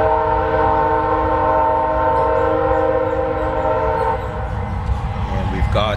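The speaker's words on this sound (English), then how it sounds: "He's going to blow the horn again." A train horn sounds loud and steady for about six seconds from an eastbound train approaching a passing siding, its sustained chord holding above low rumbling rail noise, with no speech.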